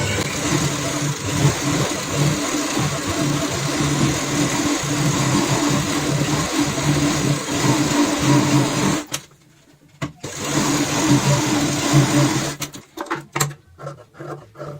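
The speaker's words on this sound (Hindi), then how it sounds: "जो हमने यहाँ पे सिलाई लगाई है इसी के ऊपर यहाँ पे सिलाई लगाएंगे, एक पैर चौड़ाई वाली" A sewing machine topstitches a seam a presser-foot's width wide on a fabric handbag, its motor whirring steadily for about nine seconds, then stopping and starting again in shorter bursts, with no speech.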